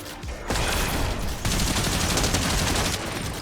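Fortnite gunfire bursts out in loud, dense automatic volleys, with a brief lull and then another long sustained stretch of rapid shots.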